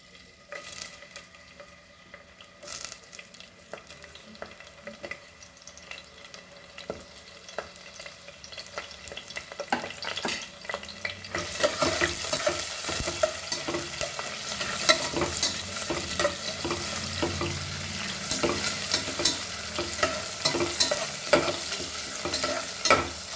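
Garlic and chilies frying in a pan, a steady sizzle that starts quiet and grows into a louder, dense crackle, with occasional stirring clinks close by.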